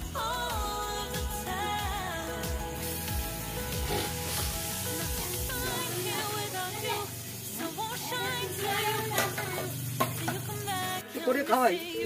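Mutton and potatoes for a mutton handi frying and being stirred in a pan. The sizzle is continuous and close, set against melodic background sound and voices throughout.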